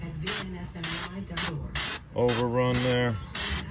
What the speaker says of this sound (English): Hit it with some brake clean, clean it up